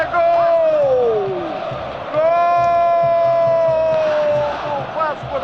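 Football stadium crowd roaring after a Vasco da Gama goal scored by Roberto, a broad steady cheer beneath a man's long, drawn-out shouts.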